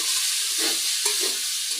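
Chopped broad beans fry on a home stove, giving a brief, steady sizzling hiss at moderate loudness with a few soft stirring sounds.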